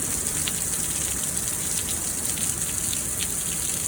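Heavy rain pours down steadily in St. Louis, Missouri, a dense, continuous hiss with scattered drop spatters throughout and no voices.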